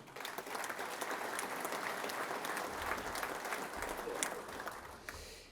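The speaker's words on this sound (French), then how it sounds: "vous pouvez vous applaudir vraiment, vraiment" An audience at a general assembly claps continuously, a dense, fairly distant wash of applause with a few low thumps, fading slightly at the end.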